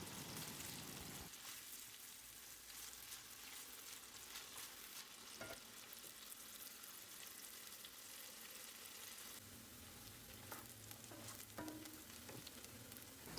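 Chopped onion frying in olive oil in a pot gives a steady, close sizzle with scattered crackles and pops, and a few soft stirring clinks, no voices.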